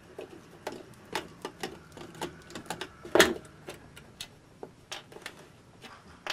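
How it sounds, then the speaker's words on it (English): Quarter-inch driver backing out the two screws on a 5900 water softener control valve, giving a string of light, quick clicks and ticks with one louder clack near the middle, close up and without talk. "a quarter inch driver is goes a little bit faster anyway. And there's only two screws, and you can see where I'm unscrewing them."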